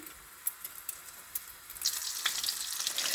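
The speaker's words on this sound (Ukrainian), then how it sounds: "От яєчко і на сковорідочку. О, як шипить." Chebureki pastry made from thin lavash sizzles in a pan over lower-than-medium heat, soft crackles at first, then a louder, steady frying hiss sets in.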